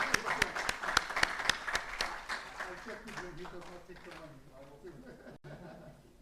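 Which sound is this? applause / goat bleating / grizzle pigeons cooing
applause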